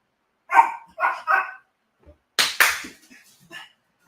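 A dog barks indoors in short, sharp bursts, a quick cluster of three followed after a pause by a couple of louder, harsher barks and some fainter yips, close by and with no talking.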